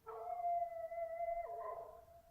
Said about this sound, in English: That confounded dog is tied up around here somewhere.